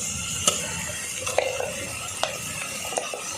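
Onion and ground masala stirred in a frying pan for a Kerala squid and quail egg masala: a steady soft sizzle broken by a few sharp scrapes and clinks of the spoon against the pan, with no voices.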